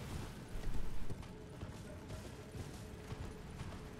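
Torrent, the spectral horse in Elden Ring, galloping with a quick run of hoof clip-clops that is briefly louder near the start, then settles into a steady faint patter under game ambience.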